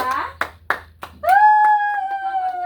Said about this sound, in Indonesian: Silakan berikan tepuk tangan untuk kelompok 2